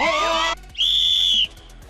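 A whistle blown to start a game during a variety show challenge, one loud sustained shrill blast lasting nearly a second, preceded by a brief burst of other noise.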